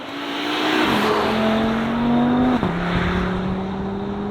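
A 2023 Audi RS3 with its five-cylinder engine accelerates hard on a track, a loud continuous engine note climbing in pitch, dropping briefly at a gear change near the middle, then rising again, with no talking.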